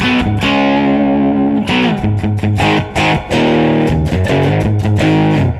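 Electric guitar played through a Behringer V-Amp II modelling amp set to a light distortion amp model, strummed chords ringing with a mildly crunchy tone, loud and continuous without any talk.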